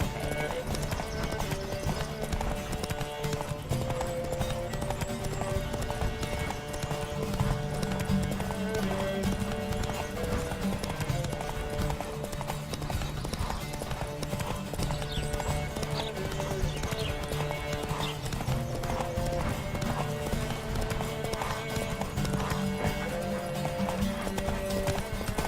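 Rapid, rhythmic hoofbeats of a galloping horse in The Witcher 3: Wild Hunt video game, over steady background music, with voices calling out now and then.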